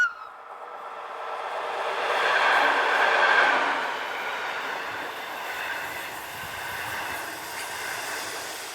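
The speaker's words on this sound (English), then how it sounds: "L11200 was on the rear of this local service from Brig." A local passenger train from Brig with locomotive L11200 on the rear rolls past at a distance, a steady rumble and wheel hiss swelling to a peak then easing off, with a faint metallic squeal, no voices.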